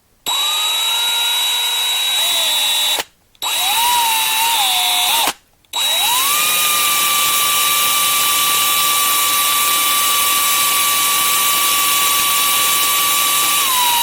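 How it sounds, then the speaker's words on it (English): A power drill whines loudly and steadily, drilling out a rivet on a 1/64 scale diecast car, pausing twice briefly in the first few seconds, then grinding on continuously at a constant high pitch. "Okay, next step, we're gonna drill this thing"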